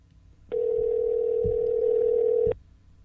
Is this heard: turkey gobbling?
no